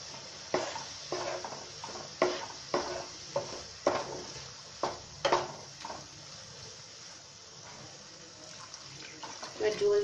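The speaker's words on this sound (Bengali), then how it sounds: "জল দিয়ে দিচ্ছি।" Water is poured into a pan of cooking matar paneer: a series of close splashing bursts at a steady rhythm, then a softer, continuous stream near the end.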